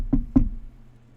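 Two sharp knocks on a door, spaced about a quarter second apart, close and fairly loud, followed by quiet room tone with no talking.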